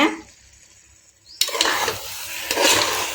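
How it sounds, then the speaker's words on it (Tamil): Chicken being stirred into a gravy for chicken biryani, a quiet scraping spoon against the pot followed by a louder sizzling, wet stirring that continues steadily to the end, with no talking. "சிக்கனை ஆட் பண்ணிவிட்டு நல்லா இப்போ கிளறி விடலாங்க"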